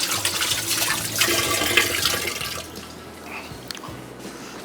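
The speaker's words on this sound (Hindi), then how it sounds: "मैं हाथ धो लूँ और फिर आते हैं वापस" Water runs steadily from a tap, splashing as hands are washed in a home kitchen, then the flow tapers off with a few drips near the end.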